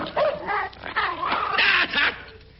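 A dog gives a short run of yips, whimpers and barks, close and fairly loud, in a few bursts across under three seconds of a comedy audio sketch.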